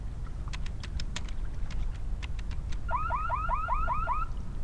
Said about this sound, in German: Black Mesa Alarm ausgelöst.